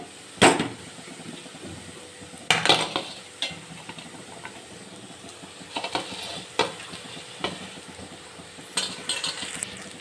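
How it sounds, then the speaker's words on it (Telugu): Small bitter gourds are stirred in a pan with garlic chili powder, a utensil scraping and clinking against the metal in irregular bursts over a soft sizzle, close and alone. "చూడండి కాకరకాయలు వేసి కలుపుతాను"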